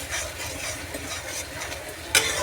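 Spices with turmeric frying in oil in a pan while being stirred, a close, even sizzle with soft scraping strokes and one sharp clink of a utensil near the end.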